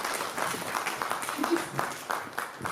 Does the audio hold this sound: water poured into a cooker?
no